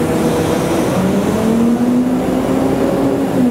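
Engine of an R12 rig worked by a variable speed throttle, a steady loud drone with a tone that climbs and holds as the throttle opens, running continuously without pause.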